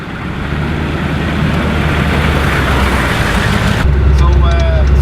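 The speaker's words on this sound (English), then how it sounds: "those trucks are very loud" A military Humvee M998 engine drones loudly from inside the cab while driving, with a deep low rumble that grows heavier near the end; voices talk over it.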